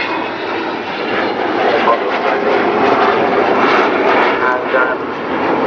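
The Avro Vulcan XH558 roars past in a flying display at Waddington, a loud, steady, broadband jet rumble that swells and holds throughout, with voices faintly mixed in.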